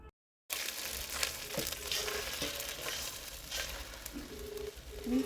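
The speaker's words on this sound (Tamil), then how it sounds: "இஞ்சி பூண்டு போட்டு நல்லா வதக்குறோம்" Ginger garlic paste sizzles and fries in oil inside a clay pot, a steady close crackle with a few light stirring knocks, no voices.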